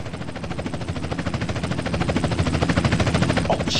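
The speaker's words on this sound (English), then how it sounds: "Chopper inbound!" Helicopter arriving in the video game GTA San Andreas, a steady, rapid rotor chop under engine whine that grows slightly louder over a few seconds, with no speech.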